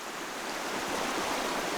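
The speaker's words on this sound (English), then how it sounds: "And again, the creek over here." A creek runs past a cold campsite with patches of ice, giving a steady, even rush of flowing water, close and unbroken for the short stretch.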